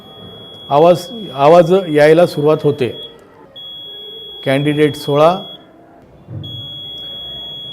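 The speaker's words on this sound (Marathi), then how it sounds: "बीपचा सलग आवाज यायला सुरुवात होते." An electronic voting machine gives a thin, steady high beep, repeating in long stretches while its stored votes are cleared, faint beneath someone speaking close by.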